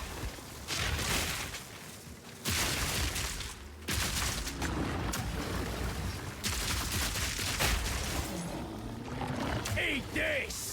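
Grenades explode in Path of Exile 2 combat, with several heavy booming bursts coming at intervals amid dense rumbling battle noise, while creature cries and a voice come in near the end.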